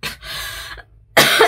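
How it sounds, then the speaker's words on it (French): A woman who is sick in summer gives two loud, close, raspy coughs separated by a brief pause, with no other sound around them. "je suis la seule personne malade en été qui tousse"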